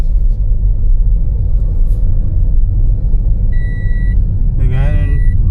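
Trucks roll past on a road with a loud, steady low rumble throughout. A short electronic beeping tone sounds partway through, and a voice is briefly heard near the end.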